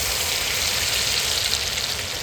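Spices for a Gujarati vaghar tempering sizzle in hot oil for a potato dish, a loud, steady, close hiss with crackling spatter throughout and no talk.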